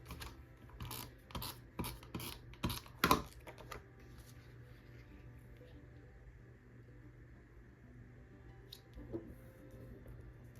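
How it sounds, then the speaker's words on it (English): Several quick crisp clicks and crunches from a ticket punch biting through paper for a craft embellishment, clustered close together early on, then a faint room hush with one more soft tap. "Just a little extra embellishment there with the ticket punch."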